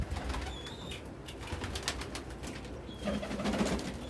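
Pigeons crowding around a small food dish, soft low cooing and murmuring with a few brief higher calls and rustling, fairly faint and close, no voices.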